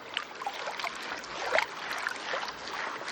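Water and gravel slosh in a gold pan as it is agitated, a close, continuous watery swishing with small gritty splashes and a few louder surges.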